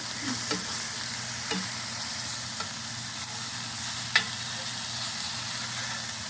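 Roasted potatoes frying in a pan, sizzling steadily throughout while a spatula scrapes at them in a few short, sharp strokes, one louder scrape near the end.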